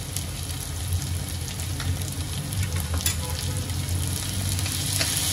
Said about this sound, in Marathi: आता या सर्वांना चांगलं तेलामध्ये मी परतून घेतेय।